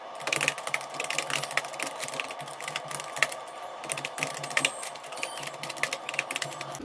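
Typing on a computer keyboard while entering names into an Excel marksheet, a quick, steady patter of close, crisp key clicks with no talking.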